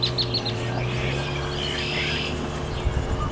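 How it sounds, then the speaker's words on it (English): Red-winged blackbirds chirping and trilling outdoors among lake reeds at moderate distance, several scattered calls over a steady low background hum. "I hear red-winged blackbirds chirping"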